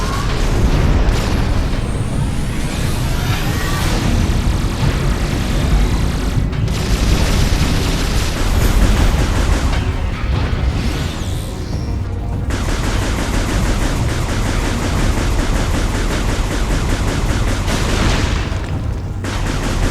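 Shooting in Hypermode at the boss Mogenar in the video game Metroid Prime 3 produces a dense, loud stream of rapid blasts and booms that runs continuously, with brief dips between volleys.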